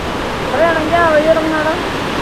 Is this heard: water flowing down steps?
yes